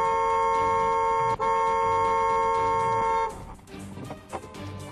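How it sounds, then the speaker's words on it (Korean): A car horn from the vehicle behind blares in long, sustained honks with a brief break, close and loud, then cuts off and leaves quieter street and cabin noise. "그런데 잠시 후 어디선가 들려오는 경적음."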